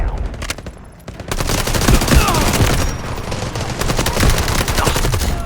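Rapid bursts of AUG assault rifle fire in the shooter game Delta Force, loud and close, with repeated volleys across the clip and brief gaps between strings of shots.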